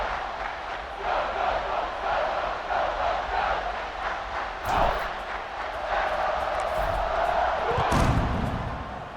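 Stadium crowd in the video game EA Sports College Football 26 roars steadily through the clip, a dense wash of cheering that swells near the end, with a commentator talking over it.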